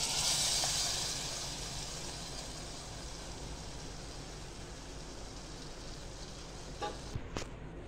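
Cooked dal poured into hot ghee tempering for a vegetarian thali: a bright sizzling hiss flares loudly for the first second, then settles into a soft, steady crackle, with a couple of faint clicks near the end.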